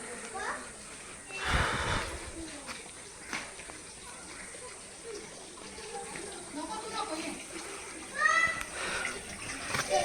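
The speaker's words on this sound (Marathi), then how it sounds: "पाणी येते बघा पाण्याचा साठा होतो आणि भरलेलं पाणी खालती वाहत आहे" Stored water trickles and flows down over rock at the Kanheri Caves, a faint, distant wash with occasional splashes, mixed with people talking nearby.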